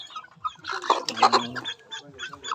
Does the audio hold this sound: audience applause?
no